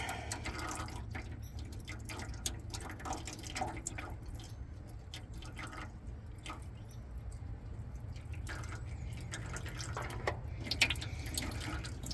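Engine oil drains from a 2012 Duramax truck into a pan, a steady trickling and dripping stream heard fairly close over a low constant hum, with no talking.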